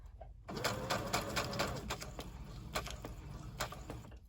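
A sewing machine stitches scrunched crepe paper in a soft, steady run, its faint mechanical chatter continuing throughout with small irregular clicks.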